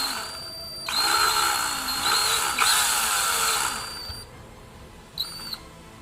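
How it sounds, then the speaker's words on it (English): An electric drill bores a small pilot hole into a plastic X-Wing miniature ship, its high whine running steadily for about three seconds at close range, then a short second burst after a pause. "All I'm trying to do is really get a hole started so that I can use the bigger drill bit."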